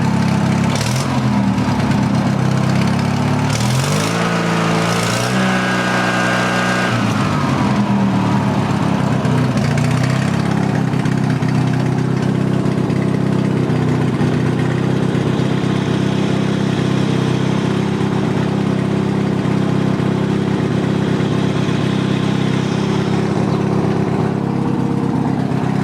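A car engine idles steadily for nearly half a minute after a somewhat rough start with no knock, a loud continuous mechanical drone with a shifting, uneven note in the opening seconds before settling.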